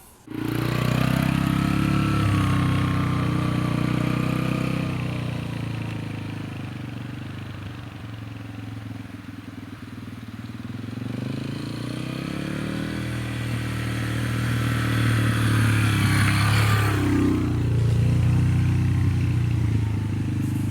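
A motorcycle runs a training course from a second-gear start, its engine revving up and easing off in smooth swells, then slowing and turning around before accelerating again; close and steady with no talk.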